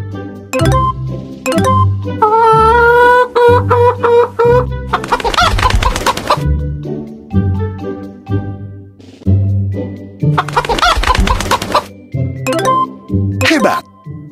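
Cartoon chickens cluck and cackle in a children's alphabet learning game set in a henhouse, with playful jingles, sound effects and cheerful music, while a narrator speaks over much of it.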